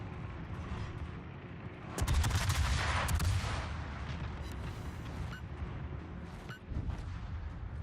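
Naval guns fire at a destroyer in the World of Warships video game, a loud burst of cannon fire and explosions erupting midway over steady engine and sea rumble, then settling back to a lower background.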